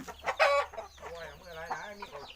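A fighting rooster clucks and squawks close by in a short burst of sharp calls, with faint background noise.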